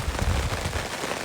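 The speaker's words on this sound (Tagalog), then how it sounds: "May ulan na." Rain falling at a family campsite at Cowan Lake State Park in Ohio, a soft, steady hiss of drops on surfaces with low rumble, brief and moderately quiet.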